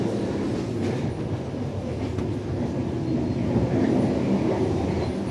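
Indonesian first-class passenger train rolling along the rails, a steady loud low rumble with faint clickety-clack from the wheels throughout, heard from inside the carriage with no talking.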